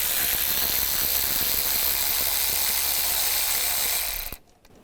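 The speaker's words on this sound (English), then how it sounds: "We'll take this bolt out. Use a 10mm socket." Ratchet with a 10mm socket backing out a bolt on a 2001-2006 BMW 325xi during a thermostat housing replacement, a steady close continuous clicking whir for about four seconds before it cuts off abruptly.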